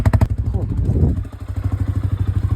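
A quad bike engine idles close by on a winter farm field, a throbbing, pulsing putter with a brief rev near the start, while someone talks over it.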